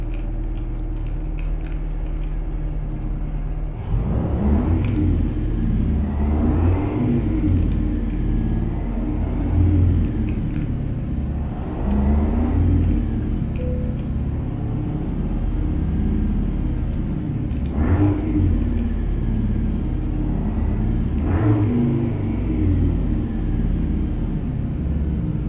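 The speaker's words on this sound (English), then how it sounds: "So right away we got the sound of the shifter." American Truck Simulator truck fitted with an Eaton Fuller transmission addon: a loud, deep, steady engine drone with repeated gear shifts and rev changes at intervals, no talking.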